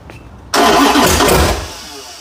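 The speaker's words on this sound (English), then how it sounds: "Starter doesn't sound too bad" The 512ci big block Mopar V8 turns over on its starter and bursts into life with a loud, sudden roar. It runs rough and strong for about a second, then settles toward a lower idle.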